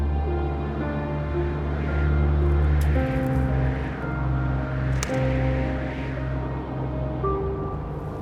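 A Royal Air Force propeller plane drones loudly and steadily overhead, its engine hum rising slightly and then settling, with no voices.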